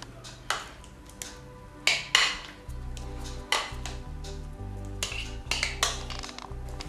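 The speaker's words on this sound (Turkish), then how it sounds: "Kaşığı ıslatarak yine aynı şekilde ikinci katı da yerleştiriyoruz." A spoon tapping and scraping in a dish while a second layer of cherry semolina milk pudding is spread, with several distinct metallic clinks spaced irregularly over a steady low hum.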